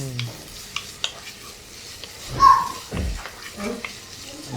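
Oil sizzles and crackles steadily in a pan as spices and curry leaves are tempered for a fish curry, with brief clinks and stirring, while voices talk faintly in the background.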